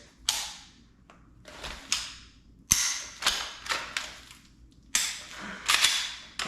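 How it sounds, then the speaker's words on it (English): Sharp, loud clicking shots from an iTarget laser firearm training system, about eight snaps at uneven intervals, each with a brief mechanical rattle, heard close with no talking. "both times you get a nice audible shot"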